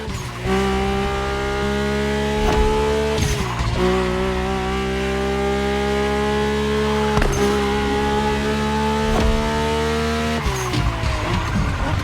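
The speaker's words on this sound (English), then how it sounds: "My ultimate appointment in this country was set with the breathtaking Mercedes AMG 1." Mercedes-AMG One in The Crew Motorfest roaring loudly up through the gears, a high sustained engine whine that drops at each shift, four or five times in a row.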